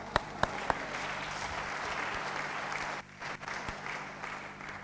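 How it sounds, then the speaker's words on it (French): Applause from a church congregation during a French-language sermon, a steady wash of clapping filling the room that thins briefly near the end. "On applaudit pour cela."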